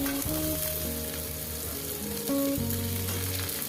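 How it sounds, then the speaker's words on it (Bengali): Masoor lentils and chopped vegetable stems fry together in an oiled pan with a dense, steady sizzle, while a tuneful melody plays along underneath. "ডাটাগুলো দিয়ে ডাল আর ডাটা একসঙ্গে ভেজে নেব"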